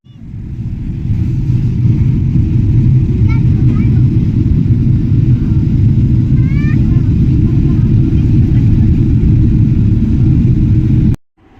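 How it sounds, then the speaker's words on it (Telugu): A passenger airliner's engines start up and settle into a loud, steady low rumble and roar heard from inside the cabin, continuous for about ten seconds before cutting off abruptly. "అందరు ఎక్కేసారు, ఫ్లైట్ స్టార్ట్ అవుతుంది."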